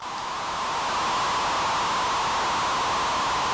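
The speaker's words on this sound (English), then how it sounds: "Let's have a listen to the digital noise output." Digital noise output from an AE Modular noise synth module: a steady, dense hiss with a slight mid-range emphasis, continuous and even in level from start to finish, with no voices.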